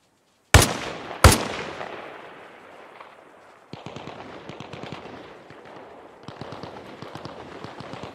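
A longer range rifle in Arma Reforger fires two sharp, loud shots that echo and fade, followed by sustained bursts of rapid distant gunfire.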